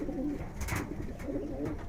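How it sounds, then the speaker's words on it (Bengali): A Giribaz pigeon coos softly and steadily at close range, with low murmuring calls running through the whole stretch and no voices present. "তো দেখেন খুব সুন্দর একটা কবুতর।"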